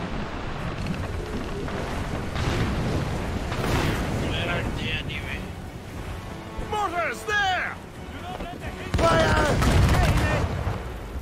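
Ship cannons boom in a naval battle against burning fire ships in Assassin's Creed Rogue, dense overlapping blasts and rumble filling the whole stretch while voices shout orders over the barrage.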